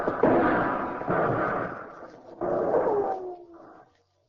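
A grenade blast and gunfire in a radio drama battle scene at Alcatraz: several loud, rough bursts with ragged decaying tails, separated by short gaps, ending in a fainter rattle. No one speaks.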